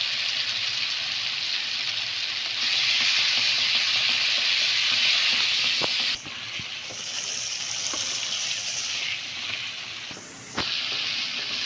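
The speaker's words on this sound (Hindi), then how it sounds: "तो अब हम इसमें 2 टेबलस्पून दही ऐड करेंगे।" Two tablespoons of yogurt added to softened tomato masala in oil, frying with a steady bright sizzle and hiss, broken by brief stirring knocks and a short dip before the sizzle resumes.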